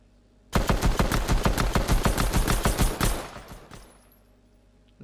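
Pistol fire in the Fortnite video game: a fast burst of about a dozen sharp, loud shots in quick rhythm, then a fading tail into quiet.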